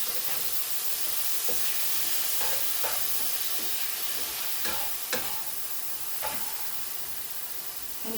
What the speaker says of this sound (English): Just stirring it.